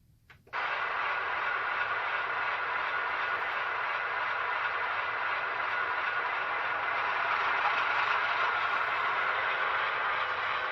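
Broadway Limited Paragon 2 Sharknose RF16 model train locomotive pulling a long cold drag, a steady broadband engine and running drone that starts abruptly and holds constant, close and fairly loud with no talk.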